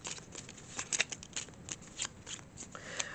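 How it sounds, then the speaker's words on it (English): A deck of playing cards being shuffled at a game night table, quick riffling bursts and soft flutters repeating close up over a few seconds. "Okay, so we're going to go ahead and shuffle."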